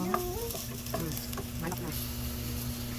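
Chicken sizzles steadily in a hot pan while a utensil stirs and scrapes, with faint voices in the background.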